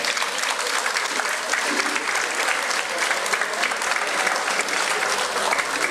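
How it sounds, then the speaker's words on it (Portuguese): Crowd at an anniversary celebration with a samba school performing, giving a round of applause: loud, dense, continuous clapping that stays steady throughout, with faint crowd voices mixed underneath. "Salve de palmas."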